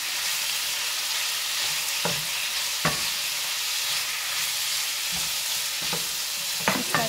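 Pasta with beans and carrots stirred in a sizzling pan, with a steady frying hiss and several distinct scraping strokes of the spoon at irregular intervals, no voices.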